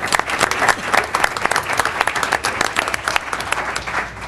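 Applause from the audience at a school board meeting, with steady brisk clapping filling the room at close range for a few seconds and a faint murmur of voices underneath.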